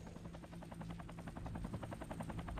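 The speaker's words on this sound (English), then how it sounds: "Some helicopters?" A helicopter's rotor chops steadily in MechWarrior 3, with a fast, even thump and a constant engine whine, loud and close, with game-style background noise and no talking.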